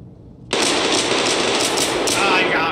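Sustained automatic gunfire in Escape From Tarkov, a loud continuous burst of rapid shots that starts abruptly and holds steady until the end.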